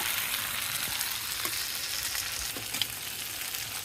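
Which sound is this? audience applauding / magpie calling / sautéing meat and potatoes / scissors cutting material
sautéing meat and potatoes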